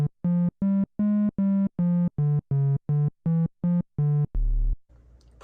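A Moog Matriarch synthesizer oscillator at full volume plays a run of about a dozen loud, sustained harmonic notes in a steady pulsing rhythm, ending in a lower buzzy tone and brief noise.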